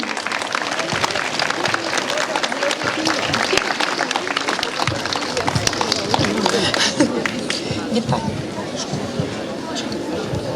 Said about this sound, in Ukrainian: Ми зустрічаємо їх оплесками і далі продовжуємо.